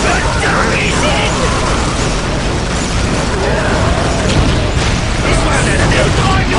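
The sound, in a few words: Ork gun firing in the video game Dawn of War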